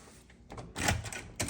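A hotel room door at the WorldMark San Diego Mission Valley swings shut, fitted with an automatic deadbolt. Soft scraping gives way to a muffled thud and a second latch knock in a quiet room.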